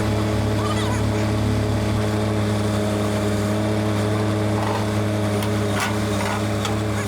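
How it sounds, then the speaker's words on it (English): A RIPPA RS06 skid steer loader lifts a trailer outdoors, its engine holding a loud, steady drone from start to finish with no pauses. "we decided to bring in the RS06, hook it up, and see if we could lift the trailer and pull off a little rescue mission"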